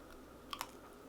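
A crunchy vegan fry is bitten and chewed: two quick, faint crisp crunches close to the mic, then quiet chewing.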